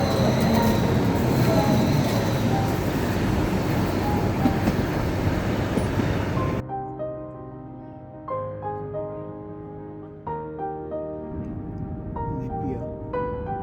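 A loud, dense rush of a train passing on a railway line in Switzerland for several seconds, then it cuts off abruptly and calm music takes over.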